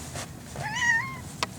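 A mother cat giving birth to kittens lets out one close, rising and falling meow, with slight rustling before and after.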